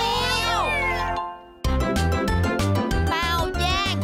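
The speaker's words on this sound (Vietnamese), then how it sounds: "Wow, một con mèo." A yellow cartoon kitten found in a box gives a clear, high, wavering meow at the start, then bright music with voices, and another meow near the end.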